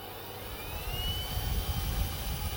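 A small portable battery-powered turbo fan spinning up, producing a smooth jet-engine-like whoosh with a faint rising whine, steady and moderately quiet, with no talking.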